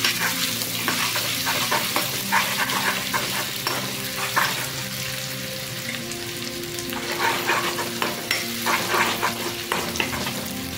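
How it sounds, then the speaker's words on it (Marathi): Garlic and ginger paste sizzling steadily in hot oil for a rustic egg curry, with intermittent stirring scrapes throughout; close and continuous, no talking. "लसूण आणि अद्रकची पेस्ट टाकून घेऊया। आता त्याला फ्राय करून घेऊया।"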